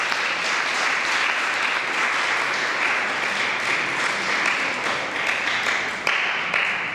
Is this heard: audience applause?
yes